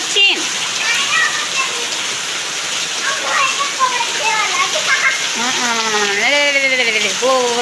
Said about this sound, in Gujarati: બાપા બહુ વરસાદ આવ્યો છે